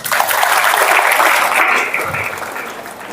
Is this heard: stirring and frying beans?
no